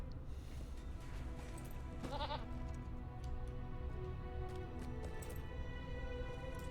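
Goats bleating in the game The Lord of the Rings Online: a short, quavering bleat stands out briefly over a steady background of game ambience and soft clicks.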